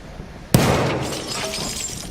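In the video game Battlefield 1, a mini grenade explodes and shatters glass: one sudden loud burst of breaking glass, then a bright tinkling spray of shards that fades over about a second and a half.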